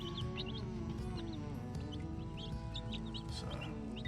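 Baby bantam chicks cheep and peep in quick, high bursts throughout, small birds given outdoor time in a chicken coop, with a constant low hum underneath.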